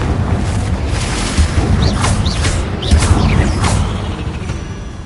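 Heavy booming blasts and whooshing bursts from the Confringo blasting spell erupt in Hogwarts Legacy while spiders are fought, several loud impacts following one another over a rumbling battle din.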